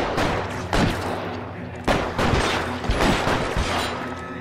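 Gunfire in the crime video game L.A. Noire: repeated bursts of shots with sharp cracks every half second or so, loud over a constant rumbling background.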